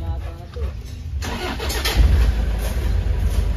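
A Toyota Hiace engine cranks and catches, then settles into a loud, close, steady idle with a low rumble that swells briefly after starting.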